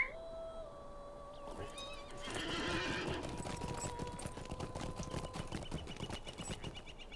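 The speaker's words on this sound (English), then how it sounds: "Let me just hop on my horse." Horse in the video game Lord of the Rings Online, rhythmic hoof clip-clops over a steady stretch with a brief neigh near the start, mixed with game ambience and tonal music.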